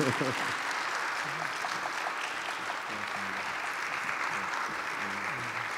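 A church audience breaks into sustained applause to welcome a pastor, many hands clapping steadily throughout, with faint voices mixed underneath.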